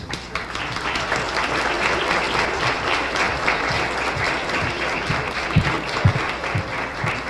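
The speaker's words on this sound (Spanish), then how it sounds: "Solicito un fuerte aplauso para recibir a nuestra anfitriona, la senadora Lucero Saldaña Pérez" A room full of people at a Senate discussion forum on work and social reintegration clap steadily to welcome the host senator, a dense, even applause that carries on with a few louder claps near the end.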